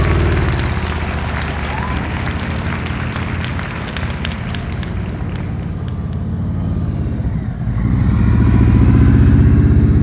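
A motorcycle moves at slow speed through tight practice turns on a riding course, its engine chugging steadily up close and swelling louder toward the end, with no talk over it.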